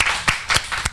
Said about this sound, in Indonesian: Jadi tepuk tangan dong buat minyak zaitun kita.